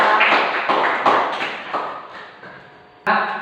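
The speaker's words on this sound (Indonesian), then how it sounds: "tepuk tangan dulu" A school class claps hands together in a rhythmic pattern of sharp bursts that fades, pauses briefly, then ends with one loud final round, close by and without talk.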